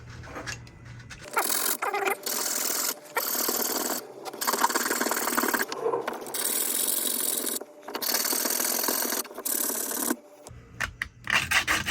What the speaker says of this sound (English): you can do just the sandpaper like this